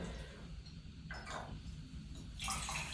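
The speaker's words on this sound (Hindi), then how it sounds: "सब में बराबर मैंने पानी डाला" Bottled water is poured out in a few bursts into several containers, set against a steady low background hum, with no talking.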